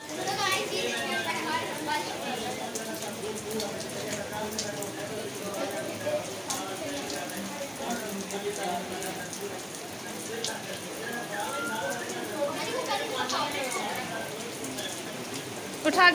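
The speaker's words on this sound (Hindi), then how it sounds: "ये देखें गाइस बारिश काफ़ी तेज़ आ गया" Heavy rain pours steadily, a dense hiss of drops hitting surfaces, with faint voices chattering in the background.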